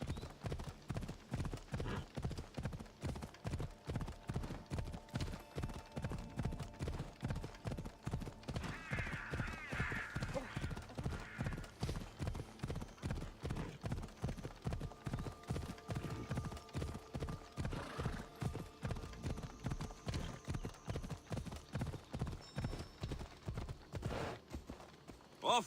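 Steady, rhythmic clip-clop of horse hooves at a brisk pace in the game Assassin's Creed Odyssey, continuing throughout with a faint musical backdrop and an occasional whinny.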